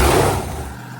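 A 6.0-litre LS V8 fitted in a mini monster truck cranks and catches, a loud low rumble up close that eases into a steadier idle within about a second.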